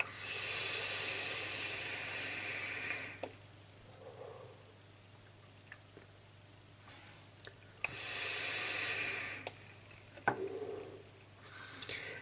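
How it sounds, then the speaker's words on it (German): An Asvape Aim-9 vape atomizer hisses loudly as vapor is drawn through it in two long pulls of about three seconds each, separated by quieter gaps with small clicks and exhaled breath. "Ich mache jetzt erstmal einen Dampftest, den ich hoffentlich auch überlebe."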